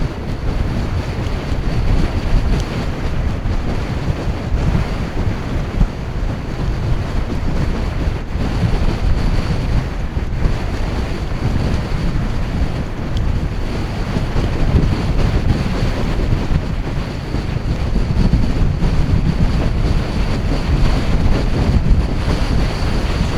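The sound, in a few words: strong wind on the coast, wind noise on the microphone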